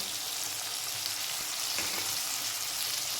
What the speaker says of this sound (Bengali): এবার আমি আলু মটরশুঁটি একসঙ্গে ভেজে নেব